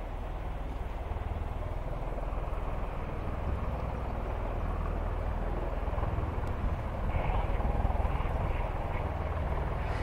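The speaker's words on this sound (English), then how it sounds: "It's known as, it's a jumbo jet to us, isn't it, hey? But yeah, it's known as the E4." A Boeing E-4 jumbo jet in Suffolk near Bury St Edmunds, heard as a continuous broad engine roar that holds steady for the whole stretch, with no voices over it.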